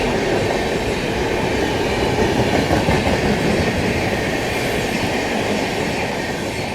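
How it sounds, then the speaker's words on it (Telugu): The New Delhi–Dehradun Shatabdi Express rumbles past at close range, a dense, loud continuous roar of wheels and carriages on rails with steady rhythmic clatter throughout and no voices. "ఆ బండి వచ్చేసి న్యూఢిల్లీ డెహ్రాడూన్ శతాబ్ది ఎక్స్ప్రెస్ అండి ఇది"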